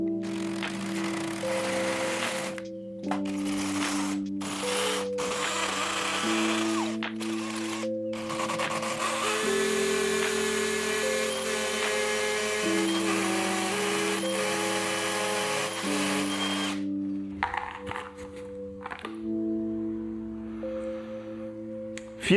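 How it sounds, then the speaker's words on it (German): A power drill bores holes into a wall to mount a curtain rod indoors, its motor whining steadily for about twenty seconds, shifting pitch in steps as the speed changes, with no talking. "Wenn ich jetzt hier bohre"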